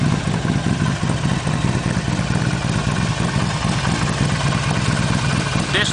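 Harley-Davidson Sportster 48 idling through a Torque Hammer full exhaust with the dB killer removed, a steady deep, loping rumble held close and loud throughout, with no talk over it.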